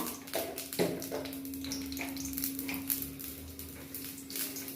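Soft crackling and popping of mustard seeds and cumin frying in sesame oil, with occasional clinks of a pan and utensil, steady and close.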